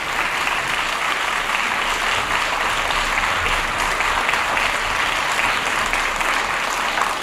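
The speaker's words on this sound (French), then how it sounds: "On vous demande d'applaudir tout d'abord Mélanie" A theatre audience at an event gives sustained, dense applause, loud and steady from start to finish with no gaps.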